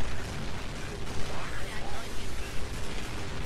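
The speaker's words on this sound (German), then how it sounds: "Die Kanonen schießen hier und Plasmagranaten auf uns." Rumbling cannon fire and plasma grenade explosions from Halo: Reach, dense and continuous, with a voice talking over the noise.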